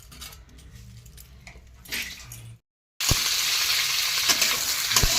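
Whole green chilies hit a hot pan for chilli gobi. A quiet clatter of utensils comes first, then after a brief pause a loud, continuous sizzle of frying takes over.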